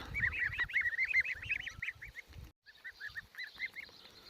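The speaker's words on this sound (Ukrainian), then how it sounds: "Покажу ще двохмісячних гусят." Two-month-old goslings call in a rapid series of nasal honks, close and fairly clear, with a brief pause before another quicker run of honking.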